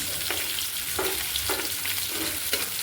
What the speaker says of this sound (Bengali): মাছ ভাজা হয়ে গেল আমি উল্টাই দিচ্ছি